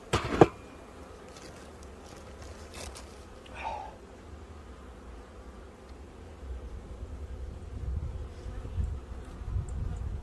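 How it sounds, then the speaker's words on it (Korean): Honeybees at their hive, busy moving pollen patties and honey, give off a low, steady buzzing drone that continues throughout, with a few brief handling knocks and a faint swell of activity toward the end. "벌들이 화분떡도 꿀도 옮겨야 되고"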